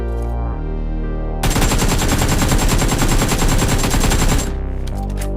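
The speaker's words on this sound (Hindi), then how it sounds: "तो चलो अभी देखते हैं फायरिंग रेट का क्या हाल है।" AKM rifle in the BGMI mobile game firing a sustained full-auto burst of about three seconds, rapid evenly spaced shots loud and close, set between quieter game ambience before and after.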